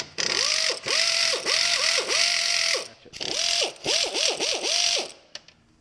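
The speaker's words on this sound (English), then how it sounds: "I love these impacting air ratchets." An impacting air ratchet works on a stuck Corolla brake caliper in rapid bursts of buzzing, hammering clatter with a whining pitch, in two runs of several pulses each, close and loud with no speech.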